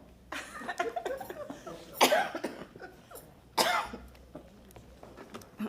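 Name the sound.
cough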